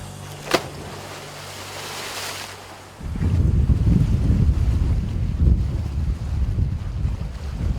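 Strong wind at a lake roars and buffets the microphone, with lapping waves underneath; after a brief quieter stretch the gusts surge louder and stay heavy and rumbling to the end, with no talking.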